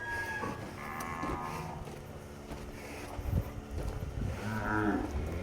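A large cow in a pen on a farm lets out drawn-out moos, fairly close, with a few repeated calls over steady background noise and no talking.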